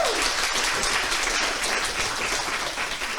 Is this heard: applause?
yes